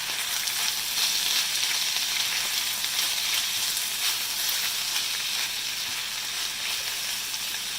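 Ginger being stirred into a hot pan with a silicone spatula while cooking a Thai coconut lime mussel curry, giving a continuous soft sizzle and hiss of frying with faint scraping of stirring underneath.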